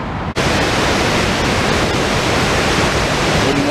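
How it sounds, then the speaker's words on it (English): Water rushes out of a dam in a loud, steady, broadband roar that fills the scene from start to finish, with no voices over it. "I'm gonna start probably with the dam right here because there's a good bit of water coming out of it"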